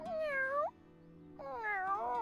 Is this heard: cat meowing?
yes